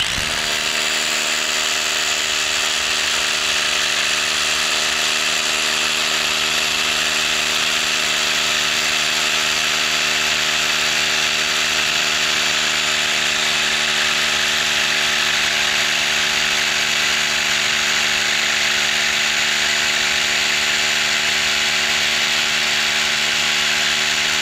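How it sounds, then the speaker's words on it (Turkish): A power drill fitted with a double diamond bit boring a hole: a loud, continuous high-pitched motor whine with a steady tonal hum, unbroken for over twenty seconds, close to the mic and without speech. "Şimdi arkadaşlar şuradan bir tane bir delik atayım."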